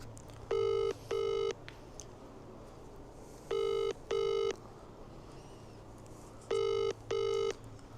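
A telephone rings out during a live Sunday prize draw while the host tries to reach a winner, giving three separated pairs of double rings, clear and steady over a faint background hum.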